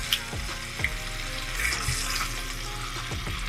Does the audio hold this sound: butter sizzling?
yes